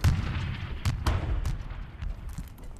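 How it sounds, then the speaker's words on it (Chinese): Heavy artillery bombardment blanketing mountain positions during the Battle of Shangganling in the Korean War: a dense run of deep booms and sharp blasts, several distinct detonations standing out over a continuous rumbling barrage, with no voices. "炮击量太大了，攻势肯定撑不住。"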